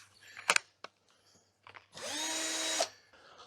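A cordless screwdriver with a dying battery, used while building a shower at a country house, gives a few sharp clicks and knocks, then a single whirring run of about a second that winds down.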